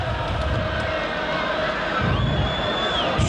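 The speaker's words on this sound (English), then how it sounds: "the crowd loving that" Large rugby league crowd cheering a Wigan try against Leeds, a dense, steady roar of many voices with whoops, loud and sustained throughout, with a commentator's voice faintly in the mix.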